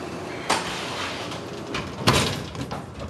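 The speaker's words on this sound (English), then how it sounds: "The door opens." Electric door of a broken Otis freight elevator in a downtown Pittsburgh department store sliding open, with a sharp thud near the start and another clunk partway through over a steady mechanical hum.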